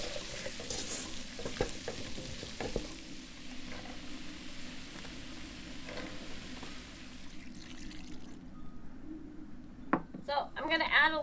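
Roux stirred in a pot of bacon chowder, a steady close sizzle and frying hiss with scraping spoon clinks, fading toward the end as voices come in briefly.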